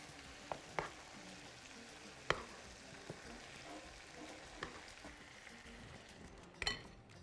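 Chicken drumsticks fry quietly in a pan with a low, steady sizzle, broken by a few sharp taps and clatters as pieces are turned over.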